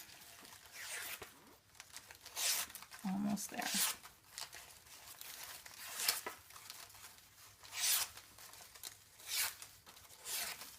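Paper strips curled white side down for a handmade gift bow give repeated close, sharp rasping swipes in irregular bursts, each lasting about a second, with a brief spoken phrase in between.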